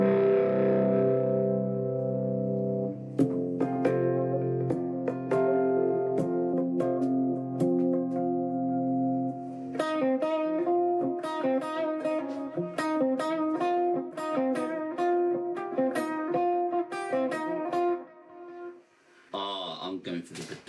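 An electric guitar played through a Neural DSP Quad Cortex amp model rings out in sustained chords, then shifts to brighter, quicker picked notes with effects and distortion, fairly quiet and alone.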